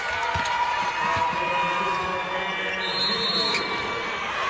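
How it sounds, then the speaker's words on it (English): Crowd noise from a women's college basketball tournament game between North Carolina Central and Coppin State fills the arena as a steady, loud roar of cheering, with scattered shouts and sneaker sounds underneath. "this crowd explodes as North Carolina Central calls a timeout"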